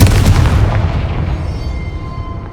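A Confringo blasting curse detonates in Hogwarts Legacy, a single loud, deep explosion with a sharp onset followed by a rumbling, crackling decay that fades over a couple of seconds.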